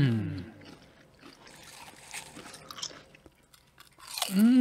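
Lay's sweet barbecue potato chips being crunched and chewed close to the mouth, a run of wet, crackly bites and mastication between brief voiced murmurs at the start and end.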